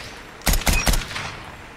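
Three loud, evenly spaced gunshots from a slow-firing SKS rifle in the mobile shooter game COD Mobile, each crack ringing briefly before the next, then fading into quiet.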